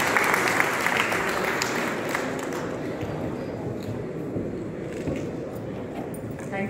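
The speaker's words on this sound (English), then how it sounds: "welcome you to the podium with a vibrant sound of claps" An audience claps to welcome someone speaker to the podium at a plastics exhibition foundation event, a steady, fairly loud wash of applause that gradually eases over several seconds.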